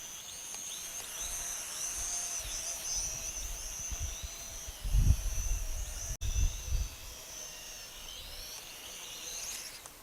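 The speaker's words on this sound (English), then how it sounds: "let me just fly it a little bit around low altitude while recording" Altair Aerial 818 Hornet drone flying fast and low over the ground, a steady high-pitched motor whine with brief louder swells and a short dropout midway.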